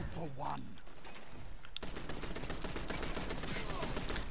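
A shooter game weapon fires a rapid, steady automatic burst, loud and close, running for several seconds after a brief pause, with a voice speaking over the start.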